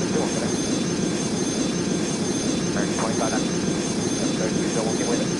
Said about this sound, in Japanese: そろそろ飛ぶわよ、マリサ。